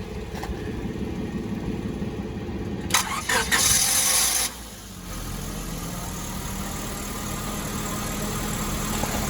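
A 2005 Honda Civic with a 1.7 engine and a leaking radiator cranks briefly in a burst of starter noise. The engine then catches and settles into a low, steady idle, heard close and under a faint background hum.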